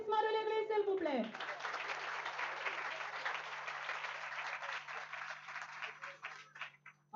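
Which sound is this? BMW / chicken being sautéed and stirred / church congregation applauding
church congregation applauding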